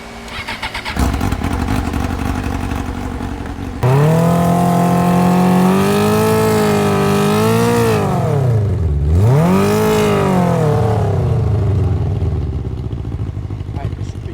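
A supermoto motorcycle with a swapped-in Suzuki GSX-R 750 engine fires up and revs, loud and close, its pitch climbing, dipping sharply and rising again as it accelerates, with wind rush and a voice over the engine.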